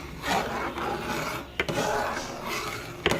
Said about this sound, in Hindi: ये देखिए, हम चलाते जा रहे हैं चम्मच